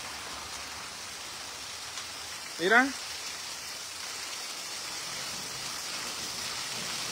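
Rain falls steadily over a village, an even hiss of drops on surfaces throughout, briefly interrupted by a single short spoken word near the start.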